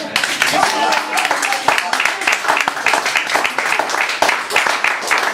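A poetry reading audience applauds a poet with loud, close clapping that runs throughout, with a few voices mixed in.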